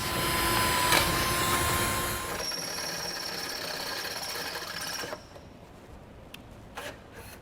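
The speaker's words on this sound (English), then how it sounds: "we're going to come back with a smaller drill bit, open up a pilot hole" A power drill grinds steadily through a metal frame rail of a 2021 Chevrolet Spark, close and loud at first, then winds down to quieter scraping and a few faint clicks.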